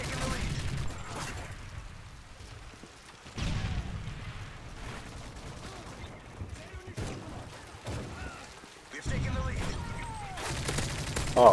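Repeated shotgun blasts and scattered gunfire in a Modern Warfare 3 online match come in bursts with short pauses, loud and close, while other weapon fire rattles in the background and players talk over it.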